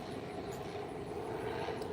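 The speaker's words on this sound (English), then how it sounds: "there's a plane flying over me right now" A plane flies overhead on its approach to a nearby airport, heard above a homestead as a steady, moderately loud broadband engine roar that holds evenly throughout with no talking.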